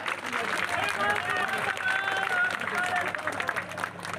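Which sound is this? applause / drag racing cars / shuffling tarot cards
applause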